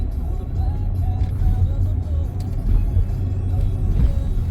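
A car drives through Neenah, Wisconsin, with a steady low engine and road rumble heard from inside the cabin. The sound stays even throughout.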